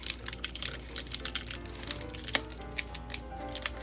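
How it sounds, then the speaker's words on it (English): Packaging tape pulled and wrapped around the lid of a plastic freeze-dried candy container, a close run of quick crackling, ticking strips and peels with no talk. "I do like to go ahead and wrap some packaging tape"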